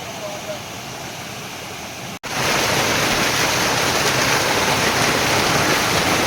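A waterfall of icy cold water at Tunganath pours in a dense, steady roar that cuts out for an instant and then returns even louder and fuller, close by and drowning out everything else.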